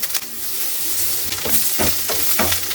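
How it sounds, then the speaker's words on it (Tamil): Fresh curry leaves fry in hot ghee for a curry-leaf sweet, hissing with a steady close sizzle while a spoon stirs through them in several quick scraping strokes. "இந்த நெய்யில் கொஞ்சம் லைட்டாக பொன்னரமாக வறுக்கணும்"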